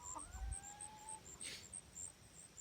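Backyard chickens settling their pecking order with a few new birds added to the flock: a couple of soft, close clucks sound over faint background noise, with a brief higher squawk in the middle.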